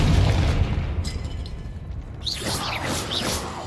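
Deep booming blast of a fire explosion spell in a wizarding video game, loud and rumbling at first, then fading into crackling debris and whooshing magical effects.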